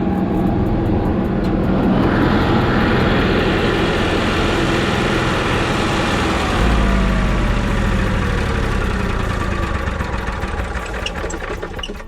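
An Onan 5500 RV generator warming up runs as a loud, steady engine drone with a constant mechanical chug, holding even for about twelve seconds with no voices.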